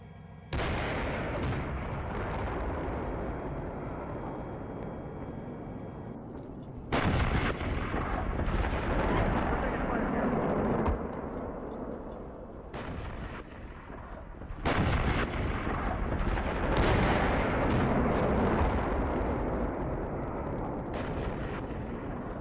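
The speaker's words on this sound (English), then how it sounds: "We're taking fire here." Heavy gunfire and artillery in a military video game roar almost continuously, loud and close, with dense bursts and booming impacts that swell sharply around the middle and later stretches; no talk.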